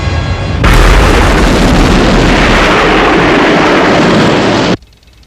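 A loud detonation erupts into a sustained, roaring blast of broadband noise lasting about four seconds, then cuts off abruptly into near silence.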